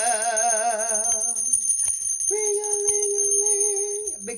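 A bell rings out over music, its bright sustained tones layered with a wavering melodic voice early on and a held steady note later, loud and close throughout.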